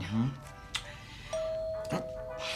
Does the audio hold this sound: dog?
no